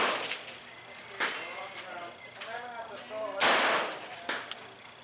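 An M1A rifle fires at targets 600 yards away. A few sharp, cracking reports stand out over someone talking throughout.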